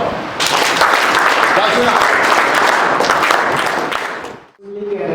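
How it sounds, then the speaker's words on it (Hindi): Sustained audience applause from a gathering at Shafa, a dense wash of clapping lasting several seconds before fading out, followed by a voice beginning to speak. "ताली बजाओ।"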